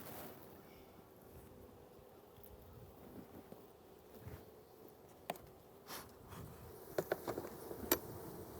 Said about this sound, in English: But this is a good hive. See all these bees?